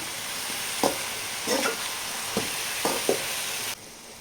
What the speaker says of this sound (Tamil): மிக்ஸ் பண்ணி விடலாம் சால்ட்டு சேர்த்துக்கலாம் மிக்ஸ் பண்ணி விடலாம்